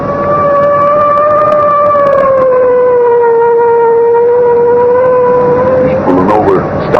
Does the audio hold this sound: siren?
yes